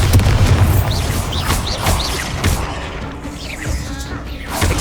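Bombarda spell blasts in Hogwarts Legacy, a series of loud booming explosions with crashing debris and rumbling tails, several impacts in quick succession inside an ancient tomb.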